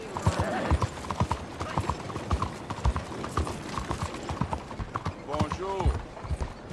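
Horse hooves clip-clop in Red Dead Redemption 2, a steady rhythmic trot of close, sharp hoofbeats running throughout while a person talks over them.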